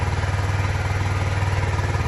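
A Kawasaki Z125 motorcycle with a KO Lightning exhaust idles close by, a loud, even, rapid low throb that holds steady throughout.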